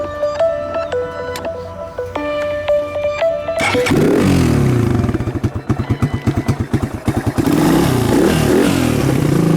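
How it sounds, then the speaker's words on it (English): A 2007 Suzuki DR200 carbureted motorcycle fires up and settles into a loud, close idle with a steady, rapid single-cylinder putter, preceded by some clicking and tapping before the engine catches. "Well, it fires up right away. It's fired up."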